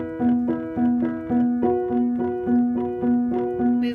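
Piano chords ring out in a steady, evenly spaced pattern, each chord struck and sustained before the next, played alone and clearly close up.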